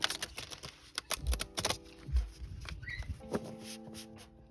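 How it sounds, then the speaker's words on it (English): Tarot cards, a slightly thicker and heavier deck, being shuffled by hand in quick riffling bursts, crisp and close, with brief pauses between passes and a faint low hum underneath. "I always try to shuffle."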